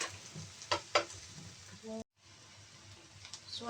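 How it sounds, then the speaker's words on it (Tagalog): Garlic and onion fry in a pan with a soft, low sizzle broken by a few sharp stirring clanks. There is a brief cut to near silence midway, then the gentle frying resumes. "Lutuin natin yung garlic at yung onion."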